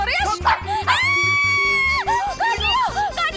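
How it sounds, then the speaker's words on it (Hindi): A pet dog named Devi yelps and whines in high, rising bursts during a chaotic scene in the TV series Baalveer Returns, close and loud over a steady thumping music track, with people's voices mixed in. "तुम्हारे डॉगी को दूर करो"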